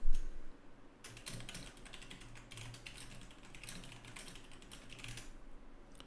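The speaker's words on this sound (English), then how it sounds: "Oh, I hate typing." Rapid typing on a computer keyboard, a dense run of close key clicks lasting several seconds, with a faint low hum underneath.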